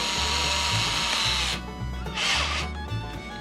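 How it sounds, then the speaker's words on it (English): A power drill whirs in short repeated bursts while drilling a small pilot hole, its motor pitch rising and falling as it bites into material, close and fairly loud. "Drill the small holes first, the pilot holes."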